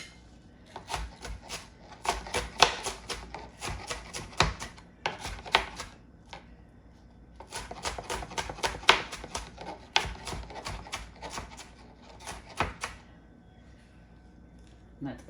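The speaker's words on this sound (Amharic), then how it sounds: "እንደ ፍላጎታችን ትንሽ ደቀቅ አደርጋለሁ እኔ።" Onion is finely chopped on a board, giving bursts of quick, close, sharp knife taps separated by short pauses, while a voice talks at times.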